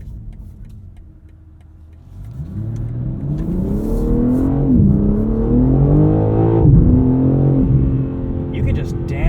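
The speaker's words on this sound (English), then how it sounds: "Hold the left paddle. It'll downshift into the lowest possible gear." A 2023 BMW M3 Competition xDrive Edition 50 Jahre engine rises sharply on a held paddle downshift, revving up loud and close and holding a climbing, wavering pitch, with a voice talking over it.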